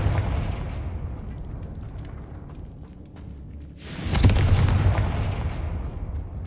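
The Confringo fire spell explodes in the Hogwarts Legacy game: a sudden, loud burst midway that rolls into a rumbling, crackling blast over the ongoing game ambience, with no voices.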